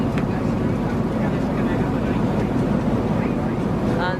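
Steady airliner cabin drone during an in-flight meal, a constant low roar and whoosh of engine and airflow filling the background evenly while a person talks over it.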